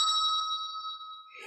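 A hand bell rung once indoors, its clear ringing tone sustained and slowly fading, with a faint rustle at the end and no speech.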